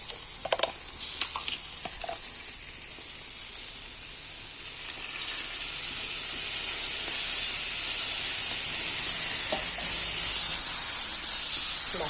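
Hissing sizzle of fish frying in oil, steady and close, growing louder partway through, with faint scrapes and clicks.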